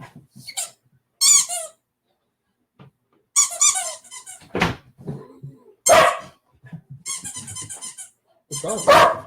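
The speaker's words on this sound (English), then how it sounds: "Yes, we are playing with the dog in the studio." A dog playing indoors in a studio gives bursts of squeaky yips and low growls in short irregular spurts, close and fairly loud, with quiet gaps between.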